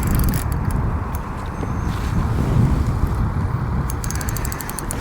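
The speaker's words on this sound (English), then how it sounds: "This wind's making it really difficult now." Strong wind buffets the microphone at a fishing lake in January, a loud continuous rushing roar with gusting swells, no voices.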